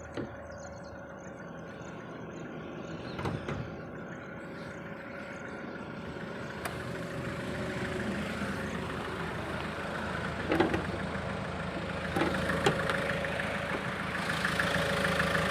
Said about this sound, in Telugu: ఇంజన్ చూసుకోవచ్చు సైలెంట్గా అంటే నార్మల్ సౌండ్ ఉందండి